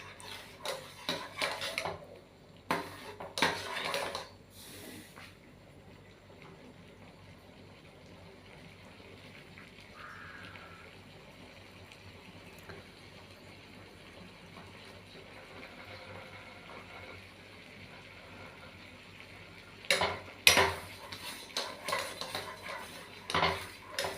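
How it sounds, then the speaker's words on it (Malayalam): Milk pudding in a pot is stirred with a metal spoon, bursts of scraping and clinking against the pot separated by a long quiet stretch of faint simmering. "ഇത് ഇടയ്ക്ക് ഇങ്ങനെ ഇളക്കി കൊടുക്കുക."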